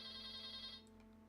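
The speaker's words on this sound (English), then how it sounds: "Ignore the phone. Somebody pick up that phone" A telephone rings with a sustained tonal electronic ring that holds steadily and then cuts off, followed by a couple of faint clicks, heard close with no talking.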